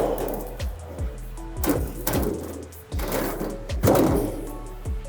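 A metal roofing panel has its corners cut beside a New Tech Machinery SSH Multipro roll-forming machine. Repeated short snips and clanks land roughly once a second over a steady low machine hum, all close and fairly loud.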